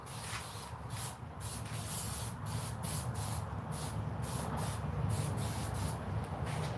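Tyre shine aerosol hisses in a series of short, close spray bursts onto the brake disc guard of an enduro dirt bike, the pulses coming in an uneven rhythm.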